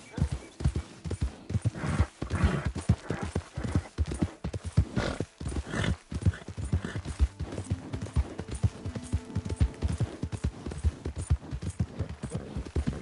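Horse hooves clip-clop in a steady, rapid trotting rhythm close by, with a brief whinny and voices speaking now and then, in the video game Red Dead Redemption 2.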